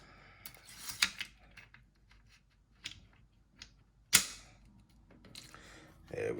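Sharp metallic clacks and clicks as an AK rifle's action is worked back and forth inside a new railed gas tube, a handful of irregular close snaps with quiet handling between them.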